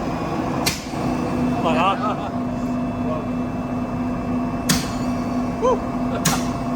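A self-cleaning, combi-style boiler on a farm fires short blasts of air through its chambers to clear soot: three sharp, separate bursts over a steady mechanical hum, while people talk nearby.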